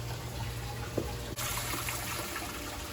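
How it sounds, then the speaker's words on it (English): A boat's rear live well pump pushes water through the pump and valve and newly installed hoses, giving a steady, even rushing wash that holds at one level throughout with a small dip midway. "We know we've got water flowing through the pump and through the valve"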